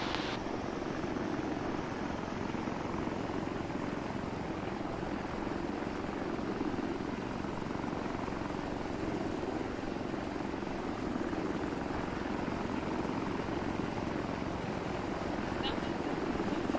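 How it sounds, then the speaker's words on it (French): A helicopter in the video game ArmA 3 drones steadily and continuously, its rotor and engine noise filling the scene without letup. "Ok, je me dirige vers l'hélicoptère."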